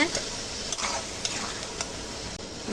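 Spice paste with turmeric and Kashmiri chilli powder frying in oil for mutton, a close, continuous sizzle with a few soft stirring scrapes, alone without talk.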